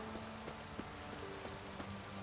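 Rain falling in The Witcher 3: Wild Hunt, a steady soft patter with scattered drop ticks and a faint tonal game ambience underneath, fairly quiet and without voices.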